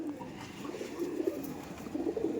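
Soft, low cooing from Madrasi pigeons for sale repeats throughout, several birds murmuring together at a moderate distance with a steady background hum.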